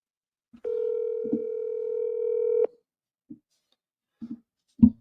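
A telephone ringback tone sounds while calling a property lead, one steady two-second tone near the start followed by brief faint clicks and blips on a quiet line.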